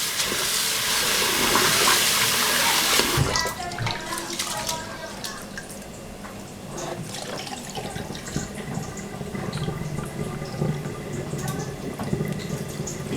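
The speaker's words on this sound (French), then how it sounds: "C'est important aussi de laver. Je verse l'eau." Water is poured over rice in a bowl to wash it. A loud, rushing pour lasts about three seconds, then gives way to softer sloshing, swirling and dripping.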